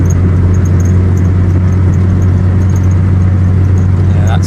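A turbocharged Mazda MX5 fitted with an ME221 engine management unit drives along, its engine a loud, steady close drone with constant road and cabin rumble and no pauses.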